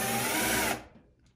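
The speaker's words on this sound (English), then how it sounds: "now we're just going to drill down into a sacrificial piece of wood here" A power drill bores through an acrylic sheet into a sacrificial piece of wood, a loud close whine that runs steadily for under a second, then cuts off into near silence.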